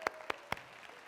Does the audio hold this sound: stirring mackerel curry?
no